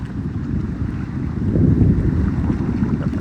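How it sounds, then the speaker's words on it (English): Cool wind blowing in a steady, loud rush that swells partway through, with buffeting noise and no voices. "That cool wind blowing now"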